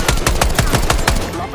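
Rapid automatic gunfire in the Black Ops 6 video game, a loud, close burst of evenly spaced shots with no pause.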